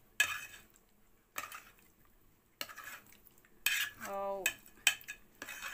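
Paneer tikka being stirred and mixed in a pan, a metal spoon scraping and clinking against the pan in several separate bursts with brief pauses, close and fairly quiet, with one short spoken word.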